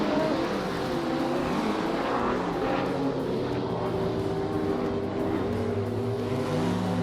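A 2016 Hennessy Venom GT racing in a video game, its engine note whining and shifting pitch steadily throughout, loud and continuous, with no talking.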